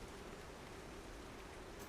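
Heavy rain pours down steadily as a dense, continuous hiss with no gaps or distinct drops, holding an even loudness throughout.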